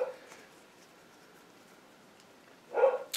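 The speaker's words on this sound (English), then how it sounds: "you can hear my dog barking" A dog barks once or twice at home, a short burst near the end after a quiet stretch, moderately close.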